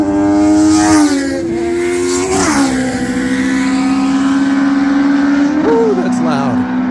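Midget race cars roar around a speedway near Albuquerque, New Mexico, their loud engine drone holding steady with brief dips and surges in pitch as the cars lift off and accelerate again.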